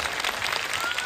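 An audience clapping, a brief dense burst of applause from many hands, steady and fairly close for about a second.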